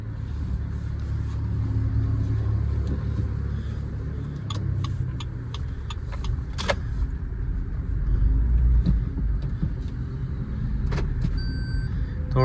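A Maruti Suzuki Fronx car driven out on the road, a steady low engine and road rumble heard from inside the cabin, with a few faint clicks and light interior rattles over it.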